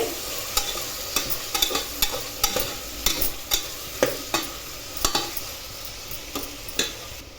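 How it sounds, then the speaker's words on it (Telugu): Tomato pieces stirred in a hot pan while cooking tomato rice, a steady frying sizzle broken by repeated sharp scrapes of a utensil against the pan at a regular rhythm, close and alone with no voices. "ఇప్పుడు టమాటా ముక్కలు వేసుకోవాలి. ఇప్పుడు ఒకసారి బాగా కలుపుకోవాలి."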